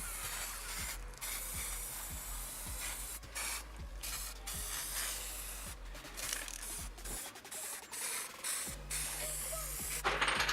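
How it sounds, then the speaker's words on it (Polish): A steady, continuous hiss of a black aerosol spray paint can coating parts of a metal hacksaw runs throughout, with brief interruptions and a low hum underneath, no voices. "Następnie pomalować wszystko na czarno sprayem."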